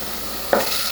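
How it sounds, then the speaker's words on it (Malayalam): Mutton pieces on the bone, cut small, stirred and sautéed in a pan, giving a brief close scrape and a burst of sizzling about halfway through a short moment. "അതും കൂടി ചേർത്ത് ഒരു 5 മിനിറ്റ് ഒന്ന് വഴറ്റി കൊടുക്കണം"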